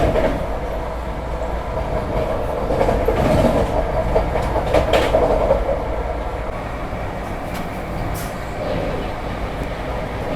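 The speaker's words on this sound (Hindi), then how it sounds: "बगल से क्रॉस हो रही है हुबली ऋषिकेश एक्सप्रेस।" The Hubli Rishikesh Express passes alongside a Vande Bharat train, giving a steady rumble and clickety-clack of wheels on rail with a few brighter squeals, heard from inside the moving coach.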